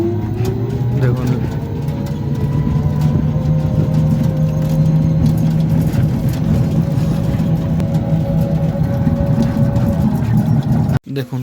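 A toto electric rickshaw drives along a rural road past mustard fields and date palms, its steady motor and road rumble continuous and close throughout, cutting off abruptly near the end.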